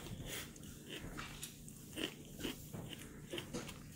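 Raw celery and carrots are crunched and chewed close to the microphone, giving soft repeated bites and wet chewing in an uneven rhythm, fairly quiet and without talk.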